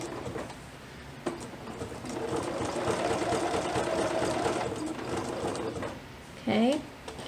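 A sewing machine stitches underwear from a Butterick 6031 pattern, running in a steady mechanical hum for several seconds, with a brief warbling voice-like sound near the end.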